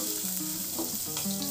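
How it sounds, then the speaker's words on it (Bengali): Ginger paste and chopped tomato fry in a hot pan for lau dal, a continuous close sizzle and crackle with light stirring throughout and no voices. "আদার সাথে টমেটোর সাথে কয়েক সেকেন্ড ভেজে নেব"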